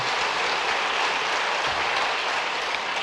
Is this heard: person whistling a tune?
no